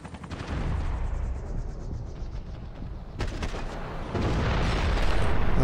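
Gunfire in Max Payne 3 on PC: repeated close, loud shots in a chaotic firefight, with dense bursts building toward the end and no talk.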